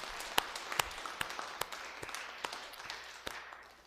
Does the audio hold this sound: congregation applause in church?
yes